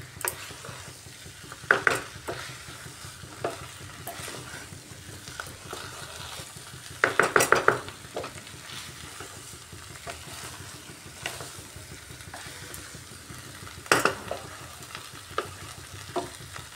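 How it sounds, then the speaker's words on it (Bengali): Chicken and kabuli chickpea ghugni being stirred and fried in a pan, with a steady low sizzle throughout and occasional scraping clatters of the spoon against the pan, loudest in a brief cluster midway. "এইভাবে বারবার নাড়িয়ে খুব ভালো করে কষিয়ে নিতে হবে।"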